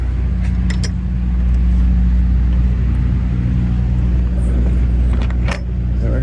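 A truck backing a trailer into place gives a steady, loud diesel rumble with a heavy low drone throughout, a few faint metallic clinks over the top and a brief dip in engine note near the end.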